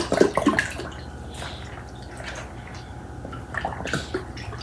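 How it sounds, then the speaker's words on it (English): Thick buttermilk is poured over raw chicken pieces in a bowl, giving uneven wet glugs and splashes in short bursts, close by, with no talk. "I'll dump the buttermilk."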